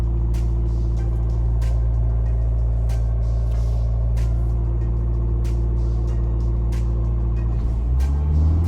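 A Hyundai Creta 1.5 or Verna 1.6 diesel car engine held at about 2000 rpm, giving a steady, loud, continuous low drone with rumble, close by, with the pitch dropping slightly near the end.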